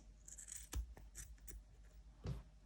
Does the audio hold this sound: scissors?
yes